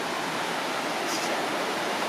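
Water pours over Nancytown Dam on Nancytown Creek in a steady, broad rushing roar, close and constant throughout, with no voices.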